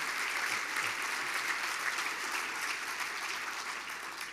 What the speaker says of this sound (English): Yeah, we can clap to that.